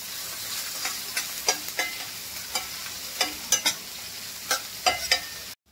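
A spatula scrapes and stirs chopped onion and green chili frying in oil in a pan for a potato and pea bhaji. The strokes are close and come in an irregular rhythm over a soft, steady sizzle, with no voices.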